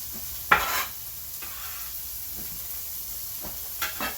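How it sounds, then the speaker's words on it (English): Shallots sauté in a pan over medium-low heat, a soft continuous sizzle broken by a few sharp stirring scrapes near the start and end, with no voices. "We're going to give these a quick saute. Just until the onion is translucent."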